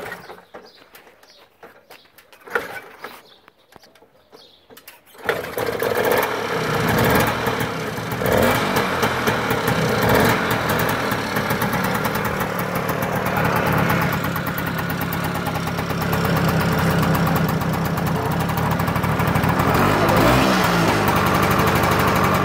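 A 1960 Francis Barnett Plover 150cc motorcycle engine starts after a few quiet seconds, then settles into a loud, steady idle that runs on unbroken, with birds audible faintly beforehand.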